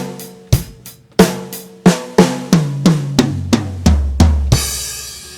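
Drum kit plays a steady bar of beginner rock beat with kick, snare and hi-hat, then a second bar of tom fill falling in pitch and ending on a crash cymbal, close and loud with no talking.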